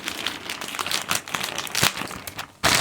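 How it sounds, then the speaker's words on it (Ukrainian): Close, continuous crinkling and rustling of a plastic Sonic Prime surprise packet being pulled open, with brief tearing bursts and a loud crackle at the end. "відкриємо посилку, яка мені прийшла"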